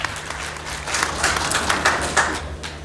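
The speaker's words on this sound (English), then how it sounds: "A big round of applause to the chair." A conference audience at the Devolution Conference gives the chair a short round of applause. The clapping is moderate and steady, with a few sharper claps and a low hum of the room underneath.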